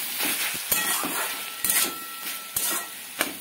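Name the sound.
stirring spinach with mustard paste in a pan using a spatula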